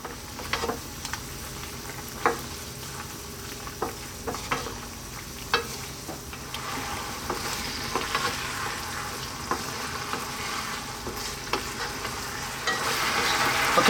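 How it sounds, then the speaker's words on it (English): Chicken wings bubble and reduce in a sweet 7UP sauce, a steady frying sizzle with occasional spoon taps and stirring scrapes, the hiss growing slightly brighter toward the end. "So we're going to just cook it until this kind of dries down a bit."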